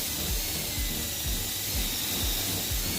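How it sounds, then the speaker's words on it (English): A metal drill bit bores into wood during a sash window spring replacement, with a steady grinding whir and repeated low, thumping pulses as the bit is worked in and out of the hole. "drill the hole where you marked it previously. Go in and out multiple times, as these are metal drill bits, not ideal for drilling wood"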